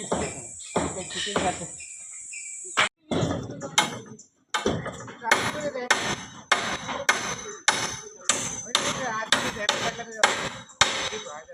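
Iron ribs are hammered onto the roof of an old house: a close series of sharp metal-and-wood strikes in uneven bursts, with an insect-like whine at the start and some background voices.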